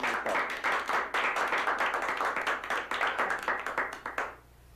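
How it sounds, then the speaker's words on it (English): An audience applauds a card-in-wallet magic routine with steady, fairly close hand clapping that fills the room and then stops abruptly near the end. "I don't know if you guys should applaud at that part."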